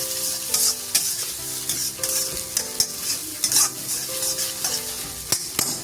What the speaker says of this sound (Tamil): வெஜிடபிள் வதக்க சொல்ல ஹை ஃப்ளேம் வச்சு வதக்குங்க